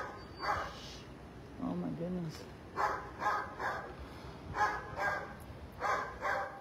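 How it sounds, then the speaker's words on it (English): Dogs bark in short bursts at a distance in a city neighbourhood after a shooting, several separate volleys spread across the clip over a steady low background hum. "The hood dogs are barking, man."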